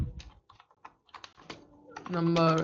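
Python code typed on a computer keyboard: scattered, quick key clicks in an uneven rhythm, close and fairly crisp, followed by a voice starting to speak near the end.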